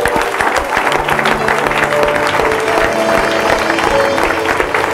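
A church congregation applauds in praise of the Lord, loud sustained clapping from many hands filling the room, with musical tones and scattered voices mixed in.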